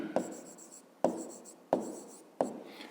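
Four sharp, distinct strokes of a pen or chalk writing out a maths expression, each a quick tap followed by a brief scratch, evenly spaced and fairly quiet in a still room.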